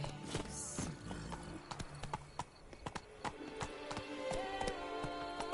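Hooves of the horse Roach clip-clop steadily in The Witcher 3 game, a close, even trotting rhythm with occasional louder strikes over a low ambient bed.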